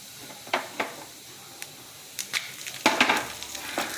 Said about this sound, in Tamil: ஒரு ஸ்பூன் உளுத்தம்பருப்பு கொஞ்சம் செவக்கட்டும்